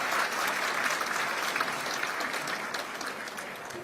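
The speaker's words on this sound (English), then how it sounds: "Let's thank him again with a round of applause." Sustained applause from a large audience at the opening ceremony of the Beijing Xiangshan security forum, dense and steady throughout, tapering slightly toward the end with no voices.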